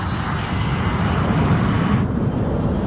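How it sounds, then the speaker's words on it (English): A transport plane's engines drone steadily in flight in the Ace Combat 5 video game, a dense, loud, continuous rumble with a broad roar that eases slightly in the upper range near the end, with no talk. "This is the Ocean Air Force transport plane Mother Goose 1."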